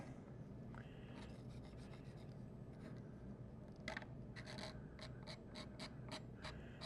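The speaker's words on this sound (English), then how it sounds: "Now I am scratching some lines." A tool scratches lines into wet paint on a white canvas, producing faint, repeated short rasping strokes that quicken toward the end, heard alone and close.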